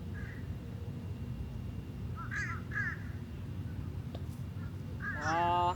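Crows caw on a golf course: a few short, scattered calls followed by a louder, drawn-out harsh caw at the end, all over a steady rumble of outdoor background noise.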